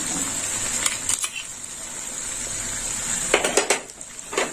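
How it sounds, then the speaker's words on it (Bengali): Cashew and melon seed paste going into a pan of hot oil with tomato paste, a steady sizzle under a few clinks of a spoon against the pan. "দিয়ে দেবো চালমগজ আর কাজু বাটা।"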